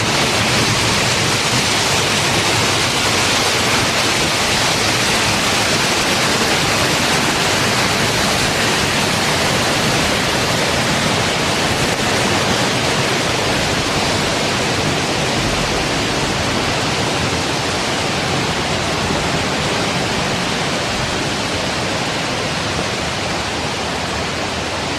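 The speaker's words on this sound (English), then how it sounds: "we take in that sound of the water going over the weir" Water pouring over a weir on the Water of Leith in Edinburgh, a constant, loud, broadband rushing roar that holds steady and unbroken throughout.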